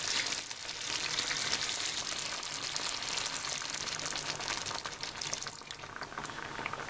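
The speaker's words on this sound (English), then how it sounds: "So I'm just going to add some water." Steady bubbling sizzle of liquid in a hot pan, with water being poured into a simmering buttermilk chicken curry, continuous and close throughout.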